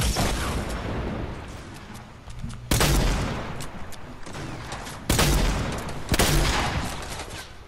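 Fortnite gunfire in bursts: a dense rattle of shots with sharp, loud volleys at about 2.7, 5.1 and 6.1 seconds, close and forceful, with no talk over it.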